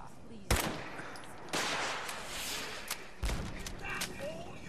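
Enemy gunfire in Fallout 4: a few sharp, loud shots and short bursts, spaced irregularly, with a lower rumble of game ambience between them.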